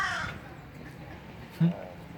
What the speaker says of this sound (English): You can hear the crow up there, I figure, right? He's pretty loud.